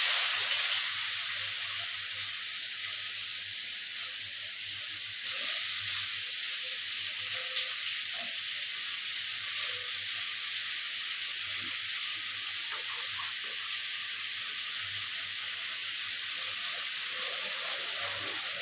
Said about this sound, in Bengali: এখন আমি এর মধ্যে পেঁয়াজ কুচিটাও দিয়ে দেবো।